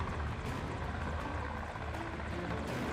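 A military helicopter hovers low over water during a special forces exercise where soldiers jump straight into the water, a steady, dense rotor roar with no pauses.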